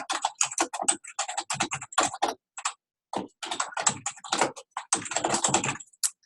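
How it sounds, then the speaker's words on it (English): Rapid typing on a computer keyboard while editing a shared Google Doc, a steady close patter of key clicks in bursts with brief pauses, loud and alone with no talking. "just type and see how it says saving"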